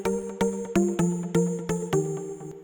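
Bright synth plucks and bass notes in an electronic track, steady repeating rhythm of short punchy hits, clear and alone.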